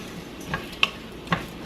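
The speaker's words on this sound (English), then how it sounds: "we're just going to give that a toss because we're just going to kind of brown that rice up as well" Rice tossed and browned in a pan with mushrooms, three quick scraping clicks over a soft, low sizzle.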